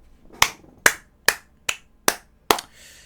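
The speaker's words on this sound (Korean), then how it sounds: "박수 한번 칩시다." Six sharp, separate hand claps or snaps spaced evenly about half a second apart, close and crisp in a quiet room, with no talking.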